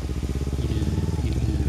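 A motorcycle engine rumbles close by with a rapid, throbbing low pulse, steady throughout.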